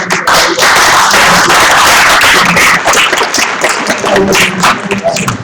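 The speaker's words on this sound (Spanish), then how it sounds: "nuevamente demos un aplauso por favor al regidor" A crowd applauds loudly and steadily, dense clapping that tapers slightly toward the end.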